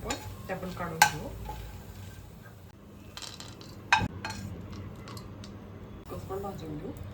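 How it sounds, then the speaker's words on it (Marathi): Prawns roast in oil in a pan for kolambi masala, a soft sizzle under stirring, with two sharp clinks of a utensil against the pan while someone talks throughout. "पॅनमध्ये तेल आहे, त्याच्यातच भाजून घेऊ आपण."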